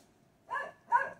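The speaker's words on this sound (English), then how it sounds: "Dog's barking." A dog gives two quick barks close by, loud and sharp against an otherwise quiet room.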